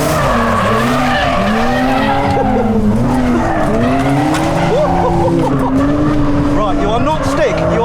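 A BMW E46 M3 Touring drifts with loud, wavering tire squeal and a steady engine roar, heard close and continuous throughout, with voices talking over it.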